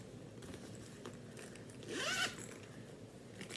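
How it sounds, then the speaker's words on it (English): A zipper with snowflake pulls on a Christmas cross-stitch project bag, pulled once in a quick, close zip at low volume over a quiet room. "Little snowflake zipper pulls."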